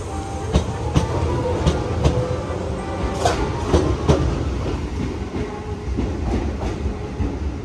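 A Shizuoka Railway 1000 series electric train departing and rolling along the tracks in heavy rain, with rhythmic clacking of wheels over rail joints and a steady rumble, fairly close.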